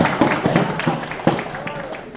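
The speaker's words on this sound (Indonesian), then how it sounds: "Tepuk tangan dulu, bagus jawabannya." Brief applause with scattered claps from an audience of vocational school students at a Ramadan afternoon event, short and uneven, mixed with room noise.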